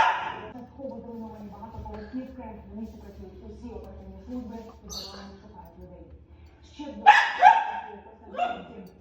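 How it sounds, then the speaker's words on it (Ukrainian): A dog barks in an animated zombie cartoon, a few sharp yips standing out over voiced dialogue, with barks clustered near the end. "Хто це гавкає?"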